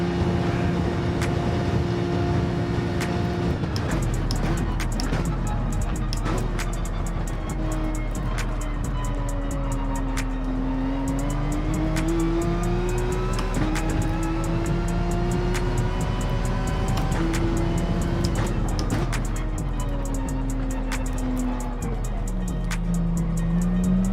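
A Porsche race car in Gran Turismo 7 holds a steady, droning engine note that rises and falls with shifts and throttle through the whole stretch, loud and continuous with no talking over it.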